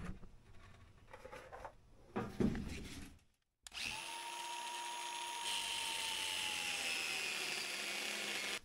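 A power cutting tool bites into seized snowmobile handlebars on a vintage Polaris race sled, a loud, steady high whine that runs for several seconds after a short pause, following some quieter shop clatter.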